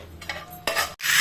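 Spices such as fenugreek, mustard seeds, cumin and curry leaves sizzle in hot oil for a curry tempering, with a few quick stirring scrapes and bursts of crackling, close and fairly loud.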